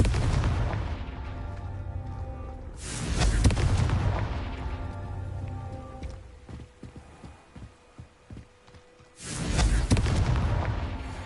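The Confringo explosion spell in the video game Hogwarts Legacy bursts with two loud, booming blasts several seconds apart, each with a long rumbling tail, and quieter irregular thuds between them.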